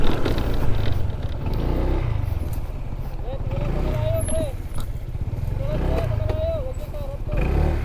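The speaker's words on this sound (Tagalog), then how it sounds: "So, may bababa natin yung motor natin." A motorcycle being ridden down toward the Dapia River in Zambales, its low engine rumble running steadily throughout while people talk over it.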